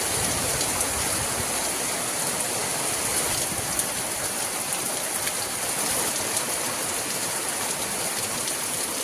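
Steady, dense rainfall hissing continuously on surfaces nearby, an even unbroken wash of drops with no voices.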